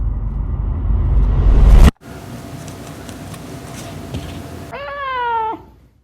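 After loud rumbling noise cuts off and a quieter stretch, a cat gives one clear, drawn-out meow near the end.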